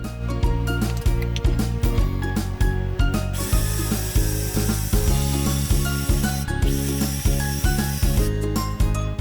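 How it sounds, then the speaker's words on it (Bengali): Cumin seeds are ground into powder, producing a loud, steady, rhythmic mechanical whirring with regular pulsing beats that continues throughout. "চলুন তাহলে এবার জিরাটা গুঁড়ো করে ফেলি।"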